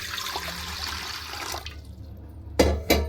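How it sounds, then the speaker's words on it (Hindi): Water pours into a pressure cooker in a home kitchen, a steady splashing stream that fades out, followed by two brief clattering knocks near the end. "तो अब कुकर के अंदर हम डालेंगे थोड़ा पानी"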